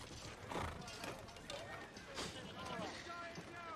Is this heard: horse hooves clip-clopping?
yes